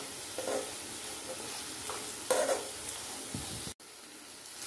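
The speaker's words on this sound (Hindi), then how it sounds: "लो टू मीडियम फ्लेम में ये प्याज आपको फ्राई करके लेना है।" Chopped onions frying in a pan over a low-medium flame, a soft steady sizzle with a few faint stirring scrapes, a brief cut near the end, and no talking.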